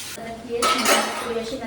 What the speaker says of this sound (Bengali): পাশে আর একটা কড়াই বসাই দিয়ে এই যে